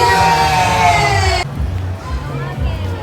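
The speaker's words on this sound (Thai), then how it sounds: "ขอเสียงปรบมือต้อนรับ" A crowd cheers and claps loudly, then the roar drops away, leaving scattered applause and chatter.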